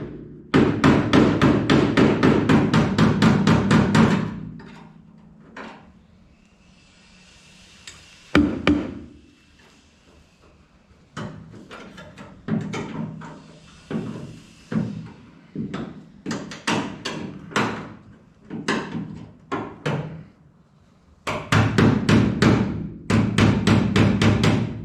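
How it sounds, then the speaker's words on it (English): Rapid metallic hammer blows ring out in dense bursts, pausing and resuming, with sharp strikes close up on a welded front-right floor pan panel of a 1961 Volkswagen Beetle, flattening it. "I'm gonna kind of hammer it a little bit"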